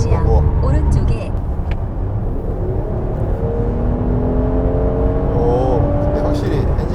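A Mercedes-AMG GLC 43 4Matic SUV accelerates with a smooth, rising engine whir heard from inside the cabin, the pitch climbing steadily under occasional talk from the occupants.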